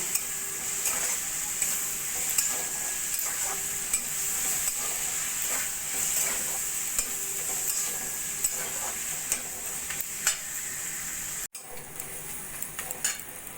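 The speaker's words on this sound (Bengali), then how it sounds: "এবার সব কিছু দিয়ে ভালো করে মশলাটা কষিয়ে নেব" Spice paste of coriander powder, chilli powder and ginger-garlic paste being stirred and fried in a pan, giving a steady close sizzle with rhythmic scraping strokes of a spoon and no talk.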